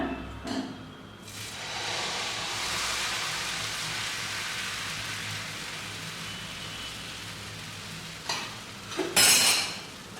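Batter poured into a hot flat pan hisses in a broad, steady sizzle that rises and holds for several seconds, close by, then ends with a few louder scraping and clattering sounds as it is spread.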